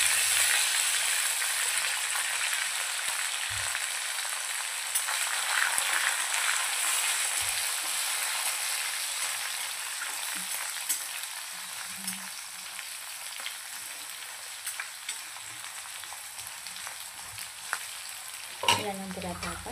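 Cumin, garlic and coriander sizzling steadily in a hot pan while being stirred, a continuous close frying hiss with occasional scraping clinks and no talk.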